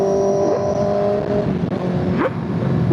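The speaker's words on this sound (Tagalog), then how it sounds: "may sasakyan." A car passes by on a rural road in Mataas na Kahoy, Batangas, its engine note swelling and fading over a few seconds, moderately loud and alone without talk.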